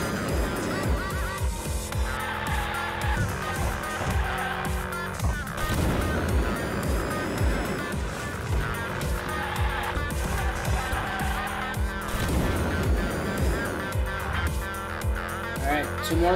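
A car driving and skidding in the Hot Wheels Unleashed racing video game: a continuous, dense engine roar with tire skids and squeals, loud and unbroken throughout.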